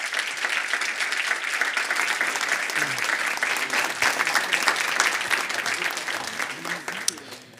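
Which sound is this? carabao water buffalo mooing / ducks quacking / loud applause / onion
loud applause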